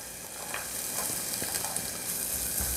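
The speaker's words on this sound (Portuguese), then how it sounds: "Deixa a nossa cebola aqui, ó, uns 2 minutinhos refogando." Chopped onion sautés in a pan with a soft, even sizzle and a few light stirring scrapes, fairly quiet and close.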